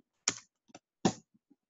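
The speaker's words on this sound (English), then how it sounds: "then typing the name of our file" A computer keyboard is typed on in a few quick, isolated keystrokes: two louder clacks and several faint taps, close and sparse with quiet gaps between.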